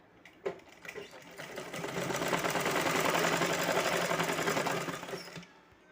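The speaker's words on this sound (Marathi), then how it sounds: "म्हणजे याला शिलाई मारूया" A sewing machine stitches a seam on the reverse side of cloth, whirring up to a loud, fast, steady mechanical rattle close by for several seconds before slowing and stopping, with a click at the start.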